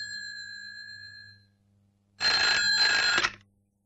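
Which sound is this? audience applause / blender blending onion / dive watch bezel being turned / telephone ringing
telephone ringing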